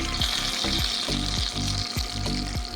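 Chicken kebab marinated in yogurt and masala fries in hot oil in a kadai, a steady loud sizzle with rhythmic low thumps as pieces are moved or stirred, no voices.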